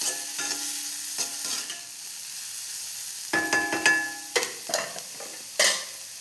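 Onions sautéing in coconut oil are stirred with a utensil, giving steady sizzling under repeated scraping strokes, close and moderately loud, with a pause in the middle before the stirring resumes.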